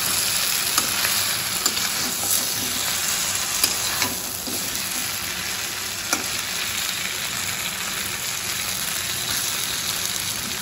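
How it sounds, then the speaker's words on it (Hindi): Arhar dal sabzi fries steadily in a pan, a continuous dense sizzle with occasional soft stirring scrapes and small pops, close and even throughout with no voices. "पाँच मिनट तक इसको थोड़ा सा भून लेंगे इसमें"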